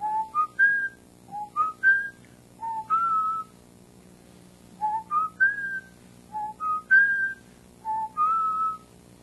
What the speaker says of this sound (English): here's the family whistle.